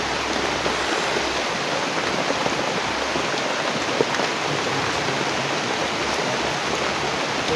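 A heavy downpour roars in a dense, unbroken wash of close, loud rain, steady from start to finish with no voices.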